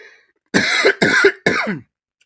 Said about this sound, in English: Sorry, a little cough there.